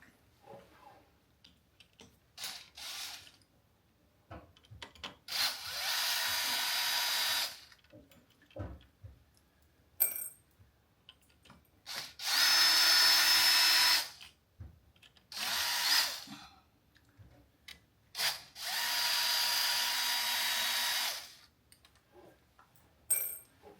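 Power drill backing bolts out of a Ricoh C5200S copier during cleaning unit replacement, several separate whirring bursts of one to three seconds each, close and loud, with quiet handling clicks between them.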